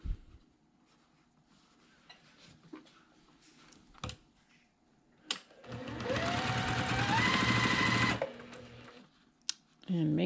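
Close, loud sewing machine runs for a couple of seconds, stitching quilt block pieces together, preceded by clicks and fabric handling and followed by more handling.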